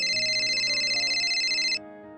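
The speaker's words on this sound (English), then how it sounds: "at that moment, my phone started ringing" A phone ringtone plays loudly and alone for nearly two seconds as a steady electronic melody with bright sustained tones, then cuts off abruptly, leaving a faint background hum.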